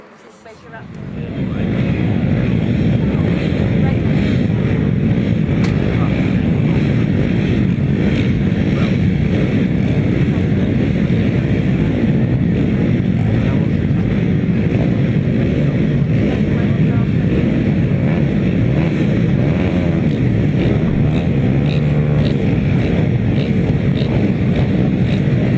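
GT140 grasstrack motorcycles race at a 2018 Chelmsford grasstrack meeting, a loud, continuous engine roar that swells in within the first seconds and holds steady, close and dominating throughout.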